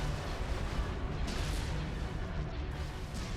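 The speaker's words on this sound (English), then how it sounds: "Direct all fire on the shield generator." Ships in Star Wars: Empire at War pour fire onto a shield generator, a steady roar of booming blasts and crackling impacts that holds at an even level for over three seconds.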